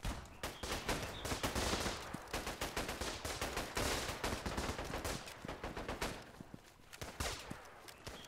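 Rapid gunfire from the trench-warfare game Running in the Trenches, dense overlapping volleys of shots crackling continuously and loudly throughout, with a slight easing near the end.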